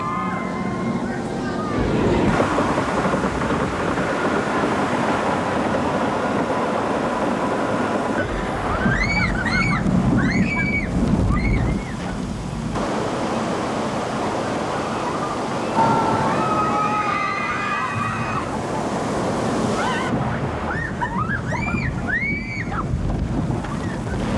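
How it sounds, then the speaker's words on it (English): Rushing water and splashing on a log flume ride at a world's fair, steady and loud with wind buffeting the microphone, while voices cry out over it at intervals. "A wild and wet ride down the Caribou Log Chute."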